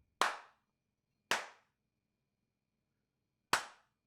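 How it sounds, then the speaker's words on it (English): Sharp single hand claps ring out in a quiet podcast recording room, three separate crisp claps spaced apart with short decaying tails and silence between. "I gotta do the clap"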